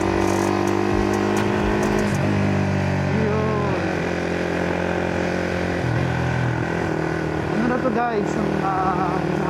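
An upgraded 180cc motorcycle engine revs loudly up and down in repeated rising and falling bursts, with people talking over it close by.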